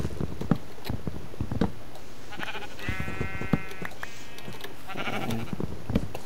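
Sheep bleating in the Minecraft video game, a few short wavering bleats in the middle of the clip over quiet game ambience and soft footstep-like taps.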